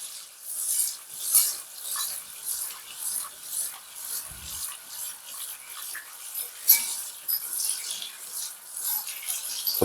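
A whisk stirring butter melting into a roux for Jamaican macaroni pie, a soft repetitive scraping and swishing in a pan, steady and close, with no talking.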